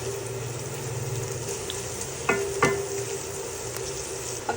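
Garlic and onion frying in oil tinted with atsuete in a pan for palabok, a steady soft sizzle throughout with a couple of brief stirring clinks near the middle.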